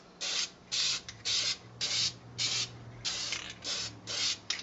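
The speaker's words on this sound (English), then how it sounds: "This is supposed to be any angle spray paint" An aerosol spray paint can hisses onto a Nerf Sharp Shot blaster in about eight short, regular bursts with brief gaps between them, close and fairly clear against a quiet background.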